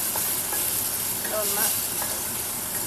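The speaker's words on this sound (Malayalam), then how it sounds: "അപ്പം നമ്മൾ തക്കാളിയും കൂടി ഇട്ട്" Tomatoes go into a hot pan of frying masala for a Kerala-style prawn roast, making a loud, continuous close sizzle and hiss with soft stirring scrapes on top and no voices.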